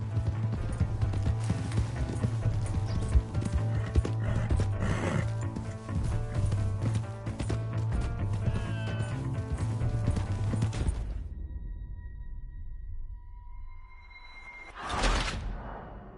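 A horse gallops in a PS4 video game, with fast rhythmic clip-clop hoofbeats under game music that cut off abruptly, followed by quieter tones and a brief whooshing burst near the end.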